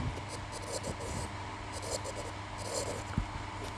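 Pen or marker scratching out equations on a page or board, a soft continuous scraping with a few brief taps, steady and close, with faint background hiss.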